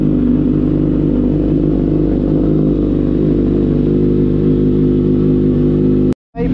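A Kawasaki Z900 motorcycle engine idles and revs steadily at close range with a low, throbbing rumble, then cuts off abruptly near the end.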